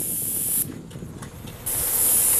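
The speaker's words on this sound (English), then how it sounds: "it looks like you guys are actually spraying a couple of shutters" A paint sprayer lays a first coat on shutters, a loud steady hiss that cuts off briefly near the start and resumes for a longer burst at the end, close and alone with no talk.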